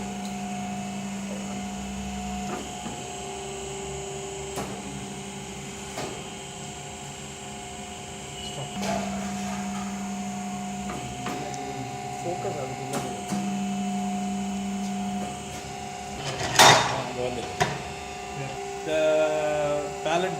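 An automated fuel pump assembly machine runs in a factory, giving a steady mechanical hum with repeated clicks and short pneumatic bursts, a sharp hiss near the end, and talk over it.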